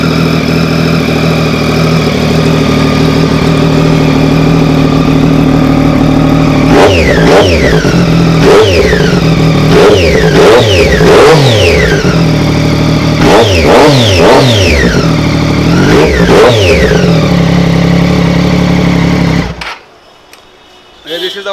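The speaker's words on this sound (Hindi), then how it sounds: "This is our Daytona sounds." A Triumph Daytona superbike with an inline-three engine idles loudly up close, then is blipped through a series of sharp, rising and falling revs, the burble cutting off abruptly near the end.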